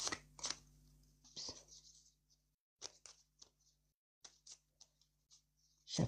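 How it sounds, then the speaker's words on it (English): Tarot reading cards being shuffled by hand, close and quiet: bursts of soft papery riffling and flicks in an irregular rhythm, separated by brief pauses, with no talking. "Shuffling these cards."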